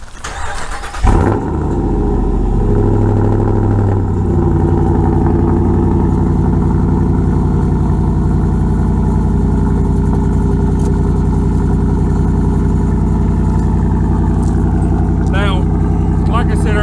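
A car fitted with a Carven exhaust cold-starts in light drizzle: a brief crank, then a loud catch and a flare of revs that settles into a deep, steady, droning idle close by.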